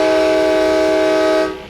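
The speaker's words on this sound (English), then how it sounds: "Amtrak went a step further and had a special horn created to make an unmistakably melodic train sound." An Amtrak train sounds its specially made melodic horn as one loud, sustained chord that cuts off abruptly near the end.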